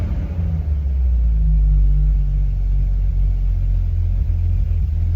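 A 1973 Ford Maverick V8 sits at fast idle on its first drive, a deep, steady low rumble close by with a slight rise and settle in pitch early on, no talking.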